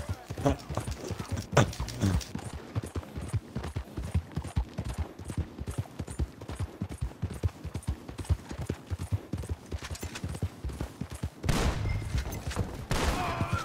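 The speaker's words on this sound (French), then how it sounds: "ça a l'air comme un cheval de travail, ça. Avec des muscles." Hooves of a heavy draft horse clip-clop steadily through a Red Dead Redemption 2 game scene, with gunfire bursts and other game sounds mixed in while people talk over it.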